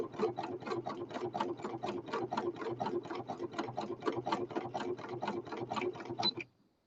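A home sewing machine runs steadily, stitching a fabric piece for a machine cover with a fast, even rhythm of needle strokes for about six seconds before stopping abruptly. It is close and alone, with no voices.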